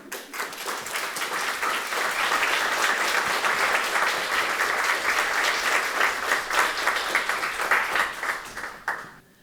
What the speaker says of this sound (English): Let's give another round of applause to Jimmy Kim